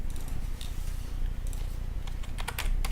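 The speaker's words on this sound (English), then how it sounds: "tippity tap on my little keyboard to wind up the next contestant" Quick keystrokes on a small computer keyboard in short bursts, faint against a steady background hum during a Formula Pi robot racing event.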